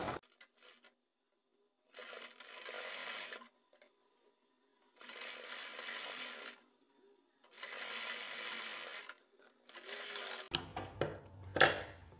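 Domestic sewing machine stitching lace along the edge of a kurti sleeve in three steady runs separated by silent pauses, close and moderately loud, ending with handling clatter.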